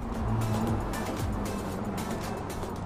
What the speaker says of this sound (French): Sous le capot, la Speedster abrite le bon vieux Flat 6 hérité de la 911 GT3.